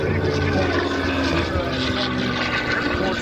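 A P-51 Mustang propeller fighter flies at the Selfridge 2022 air show, producing a loud, steady, throbbing engine drone that holds throughout.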